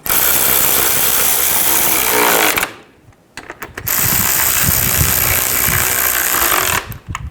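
A power tool snugs down the bolts on a front suspension cover of a 2010-16 Buick LaCrosse, with loud ratcheting bursts, a brief pause, then another long run close by.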